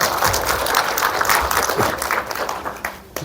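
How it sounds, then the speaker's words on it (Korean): Applause from an audience at a lecture on elderly care and welfare services, a dense wash of many hands clapping at once, loud and sustained before it thins out toward the end. "스스로에게 박수 한번 주시고."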